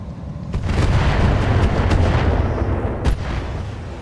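Weapons fire from mechs in the BattleTech mod RogueTech: a dense barrage of booming cannon and gunfire, sharp cracks punctuating a continuous heavy rumble, loud and close, with no talking.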